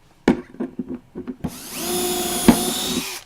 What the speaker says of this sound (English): And now I'm going to drill the other one.